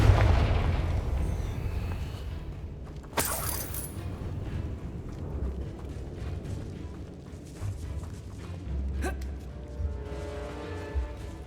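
A fire spell explodes in a fantasy wizarding video game, a sharp boom that bursts out over a continuous low rumbling game soundscape, followed by further rumbles and scattered crackling impacts.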